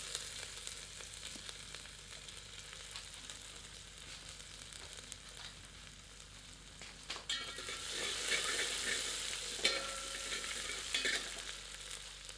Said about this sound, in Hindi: अब लहसुन और अदरक को डालकर भूनते हैं और सुनहरा होने देते हैं